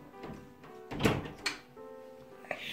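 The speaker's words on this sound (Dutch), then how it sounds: "Deur gaat wel dicht, hoor." A household door swings shut indoors with a soft thunk, followed by a second sharper knock, heard close amid quiet domestic background noise.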